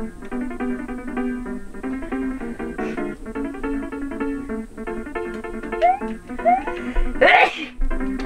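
One loud human sneeze erupts near the end over busy Super Mario World game music and sound effects.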